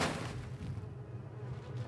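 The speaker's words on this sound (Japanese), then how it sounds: "なんかめちゃくちゃハエ、ハエが。" Dense, steady insect buzz of flies swarming in a dim room in the horror video game Little Nightmares 2, a continuous droning hum with a low rumble beneath, close and moderately loud throughout.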